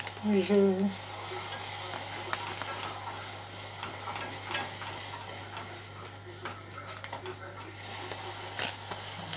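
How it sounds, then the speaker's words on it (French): Salted butter caramel stirred in a pan, a steady bubbling sizzle with soft scraping strokes of the spoon throughout, with a brief voice at the start. "Et je touille en même temps."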